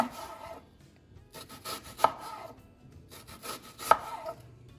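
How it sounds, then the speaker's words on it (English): A knife slices mushrooms into strips for tacos on a cutting board, with soft rubbing strokes and two sharp, close chops standing out among quieter cuts. "we're gonna cut off the end and then half it. And And then we're gonna do strips from there."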